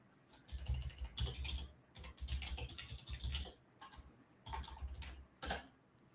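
Rapid clattering keystrokes on a computer keyboard sitting right in front of a microphone, coming in bursts of quick taps separated by short pauses, close and fairly crisp.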